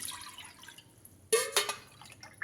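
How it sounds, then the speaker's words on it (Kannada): A short splash of two cups of water poured into a pressure cooker for moong dal kheer, a quick burst of pouring followed by a few drips and settling sounds, fairly close. "ಈಗ ಒಂದು 2 ಕಪ್ ನೀರು ಹಾಕ್ತಾಯಿದ್ದೀನಿ"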